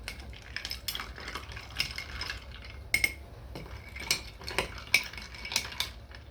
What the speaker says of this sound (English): let's stir the syrup in